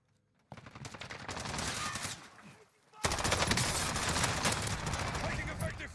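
Gunfire from a Warzone video game firefight: a short burst of automatic fire, a brief pause, then heavier sustained rapid shots, loud and close, with voices talking over it.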